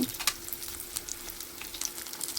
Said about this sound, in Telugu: ఒక నాలుగైదు వెల్లుల్లి దాంట్లో రెండు పెద్ద ఆనియన్ కట్ చేసుకొని ముక్కలు వేసుకోవాలి కరివేపాకు